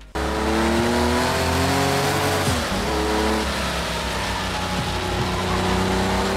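A Porsche 911 Turbo drives past with a loud, continuous engine roar and rising revs, steady throughout at close range with no talk.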